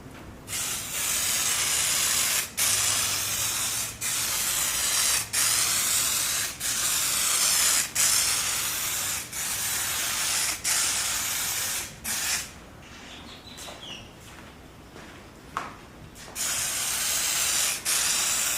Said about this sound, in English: I'm going to apply some adhesion promoter